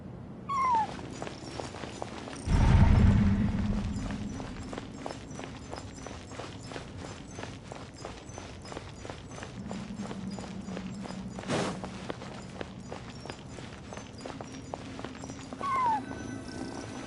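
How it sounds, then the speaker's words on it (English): A cat crying in the video game Genshin Impact, a few faint mewing calls at the start and end over game ambience, with footstep-like clopping throughout and a brief louder thump early on. "And so, I followed the cat's cries to find my way out."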